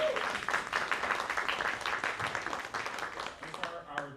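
Audience applause fills the hall for two student singers from a school vocal music department at a reclassification ceremony, steady dense clapping throughout with a few voices mixed in.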